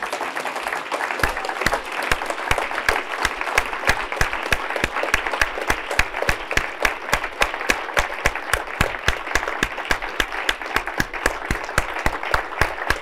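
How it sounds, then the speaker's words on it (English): A presentation audience in Orlando, Florida applauds, dense steady clapping sustained throughout at full strength with no talking over it. "Let's just stand up and applaud one another"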